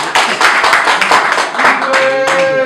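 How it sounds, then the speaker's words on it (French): An audience at a press conference claps for a couple of seconds, a dense burst of hand claps that dips briefly midway, with a voice carrying over the end. "Est-ce qu'on peut applaudir,"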